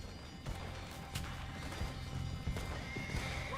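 Horses in Red Dead Redemption 2 neighing and whinnying amid clip-clopping hooves and scattered crashes and thuds, several loud whinnies standing out over a busy chaotic scene.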